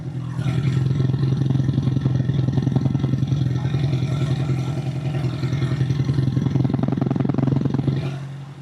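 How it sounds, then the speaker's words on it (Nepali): A rare motorcycle in Nepal idles at close range, its silencer putting out a steady, low, rhythmically pulsing exhaust throb that holds throughout and eases off at the very end. "अर्कोतिरको साइलेन्सरको आवाज सुन्दिउँ है त"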